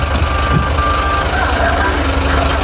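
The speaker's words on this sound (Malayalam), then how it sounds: "ഒരു ലോറി കൊണ്ട് നിർത്തി" A lorry stops nearby on a Xinjiang road: a loud, low engine rumble idles steadily close by, with warning beeps and faint voices in the background.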